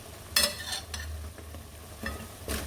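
Fish and smoked fish going into a pot of okra stew, with a few short scraping, stirring clatters over a steady low simmer.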